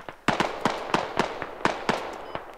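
Gunfire in the Squad Ops military shooter game, a steady run of sharp single shots at roughly even intervals, fairly close and loud, with no talking over it.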